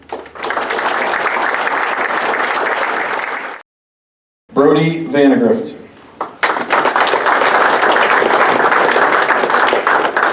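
Audience applause at a clinic event fills the room, loud and sustained, breaks off into a pause while someone speaks, then a fresh round of clapping swells up and carries on to the end.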